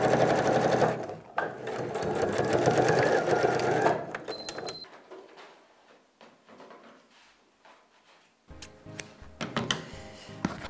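A sewing machine stitches a SnapPap bread basket, running fast and loud for a few seconds, then slowing to quieter, sparse needle ticks before a few more short bursts of stitching.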